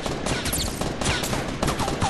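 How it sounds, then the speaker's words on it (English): Gunshots in Fortnite Battle Royale crackle in a dense, continuous barrage of rapid automatic fire and overlapping shots, loud and close, with no break for the whole stretch. "they're shooting at everything"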